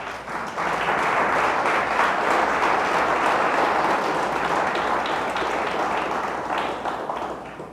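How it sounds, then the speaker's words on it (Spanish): A church congregation applauds God at a pastor's urging during a sermon, a steady, dense burst of clapping from many hands that holds loud for several seconds before easing slightly toward the end. "Dele fuerte el aplauso a Dios"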